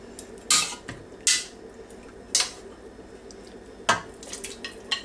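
A pressure cooker lid is opened after cooking baby back beef short ribs, with a few sharp metallic clanks and scrapes, then a quieter clatter of cookware close by, and no talking.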